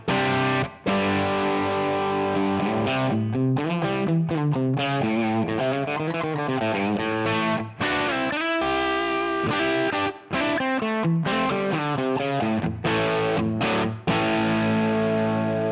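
Two Marshall amp tones blended in equal measure on a Helix guitar processor, giving a distorted electric guitar with chorus-like shimmer, played continuously with brief pauses between phrases, loud and up close with no talking.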